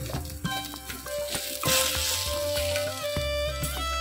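Semolina being sautéed in a pan, a soft sizzle with scraping strokes of a spoon, close by, under a persistent tonal hum from the kitchen.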